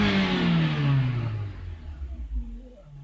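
A 2002 Nissan X-Trail engine with a low-power fault revs up and then winds down, its pitch falling steadily over three seconds. The sound is close and loud, and no one speaks.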